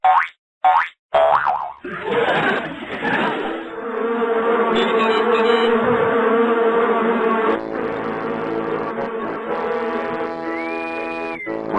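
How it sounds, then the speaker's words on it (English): Cartoon swarm of bees from a planet's surface attacking a spaceship in a Stone Age–themed space parody flash animation, a sustained layered buzzing drone over music-like tones and a boing effect, loud and continuous after brief opening hits. "A swarm of bees from the planet's surface is intercepting the ship at this very moment."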